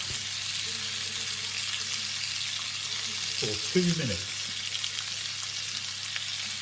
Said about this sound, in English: I'm going to drop it into the pan. There we go, sizzle.